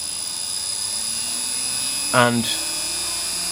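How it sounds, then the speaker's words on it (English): A wood lathe turning a pen blank at full speed gives off a steady, sustained mechanical whine, broken briefly by a short spoken word. "Then turn the lathe up to full speed"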